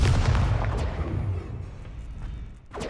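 A spell blast in the Hogwarts Legacy video game gives a heavy booming burst that opens loud and rumbles low, then slowly fades. A second impact arrives near the end.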